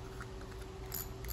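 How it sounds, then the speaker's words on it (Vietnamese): Ratchet clicker of a Japanese spinning fishing reel with a power-assist drive, giving a few faint, bright, crisp clicks close up against a low steady background hum. "Đây tiếng lưỡi gà của nó thì sẽ như vậy nè."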